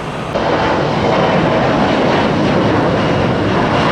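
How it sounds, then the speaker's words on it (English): Loud, steady roar of a Delta Connection Bombardier regional jet's engines at Tampa International Airport, a continuous broadband rumble and whine close by with no voices. "It's our Delta connection. The only bombardier I'm aware of that gets out of here in the morning."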